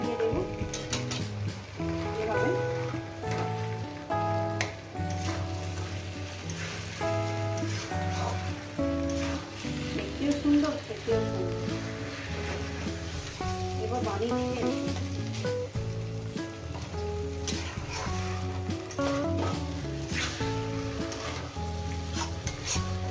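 A fish head fries in a pan for a Bengali taro-stolon chachhari, giving a continuous close sizzle with stirring scrapes under steady background music.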